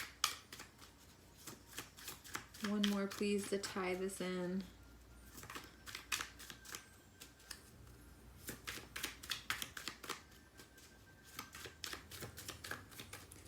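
Tarot cards being shuffled by hand, giving soft repeated riffling and flicking bursts at a close distance, with someone talking in between.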